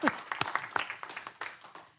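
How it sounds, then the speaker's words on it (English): A round of applause at a city council meeting, a modest scatter of clapping hands with distinct individual claps, strongest at the start and thinning toward the end, fairly quiet and close. "let's give him a big round of applause"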